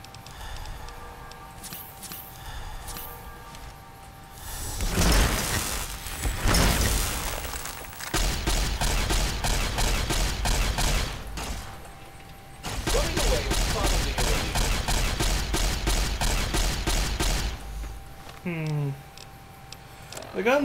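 Gunfire in Fallout: New Vegas, Old World Blues, with long rapid bursts of shots and impacts over game sounds and music while a player talks throughout.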